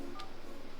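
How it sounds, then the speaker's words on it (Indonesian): A single short tone beep from pressing a number key on an office telephone keypad during dialing, close and clear over a faint background hum. "Atau dengan cara tekan tombol speakerphone, tekan nomor tujuan,"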